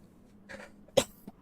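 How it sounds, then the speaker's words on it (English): One sharp, close cough bursts out in a quiet room, followed a moment later by a softer, brief throat sound. "Sorry for that cough."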